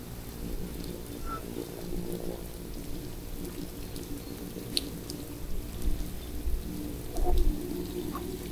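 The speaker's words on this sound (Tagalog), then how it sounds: "Ulan-ulan." Rain falling steadily at a pier on a night out squid fishing, a constant soft patter with a few louder drips and knocks near the end, birds faintly in the background.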